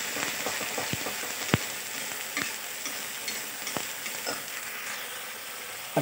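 Onions fry in hot oil in a pan for a cauliflower curry, giving a steady, moderate sizzle with a few sharp spatula taps and scrapes scattered through it.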